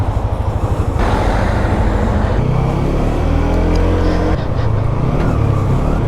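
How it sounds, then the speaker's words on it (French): Heavy road traffic, trucks included, roars past a motorcycle on a country road, a loud engine drone with rising and falling pitch as vehicles pass close by, wind buffeting throughout. "il y a beaucoup de camions hein,"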